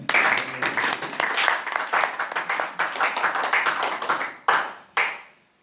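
A church congregation claps together in sustained applause through a Sunday service, dense and steady, then breaks into a few final separate claps before falling silent.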